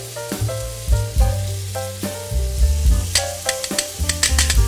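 Pieces of Cuban-style pork fry in a pan of oil, a steady loud sizzle broken by repeated scraping and stirring clatter, close up and with no voices.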